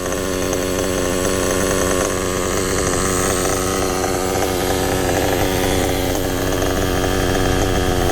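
A freshly tuned engine idles at a steady tick over, a loud, even mechanical chatter that holds without pause for the whole stretch, with no talking.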